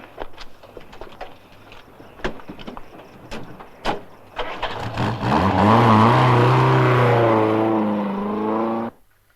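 A car door shuts, then an engine starts and revs up into a steady drive-away that holds loud for several seconds before cutting off abruptly.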